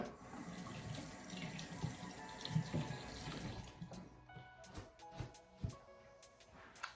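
A tap runs steadily into a sink while an edge brush is wetted under the stream, a soft constant splash that eases into a few separate drips and trickles near the end.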